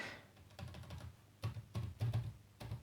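Typing on the French keyboard of an Asus Transformer Book T100HA, quiet irregular key taps in short clusters, close and soft, with no talk.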